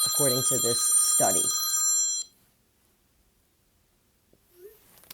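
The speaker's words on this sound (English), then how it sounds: "Sorry, that was my phone." A mobile phone rings with a bright, tonal electronic ringtone under someone speaking, then cuts off abruptly, leaving near silence and a faint breath.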